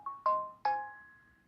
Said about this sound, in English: I need to turn notifications off on my phone.